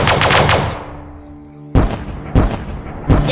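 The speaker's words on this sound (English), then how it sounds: "I'm firing my laser." Repeated laser weapon blasts from the sci-fi strategy game Sunrider: Mask of Arcadius, starting with a rapid burst of shots that fades out, then three loud, separate booming zaps spaced evenly apart.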